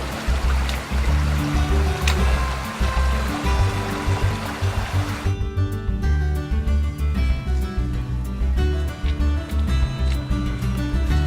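Creek water flowing and trickling steadily near a nearby listener, with a low rumbling undertone; the brighter splashing fades partway through, leaving a softer, murmuring flow.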